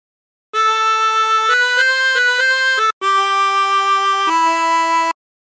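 A chromatic harmonica plays a short phrase of Battle Hymn of the Republic, clean sustained reedy notes stepping up and down in two breaths with a brief gap between, alone and clear.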